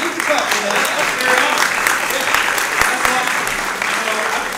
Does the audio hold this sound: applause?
yes